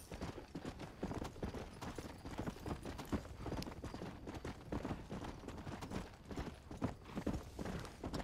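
Donkey hooves clip-clop steadily in Red Dead Redemption, a continuous dense patter of hoof strikes on ground lasting throughout, moderately loud with faint background game ambience.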